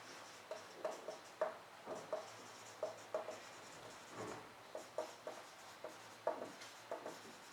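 Pen scratching on paper as notes are handwritten, close and quiet, in short repeated strokes at an irregular rhythm, with no talking.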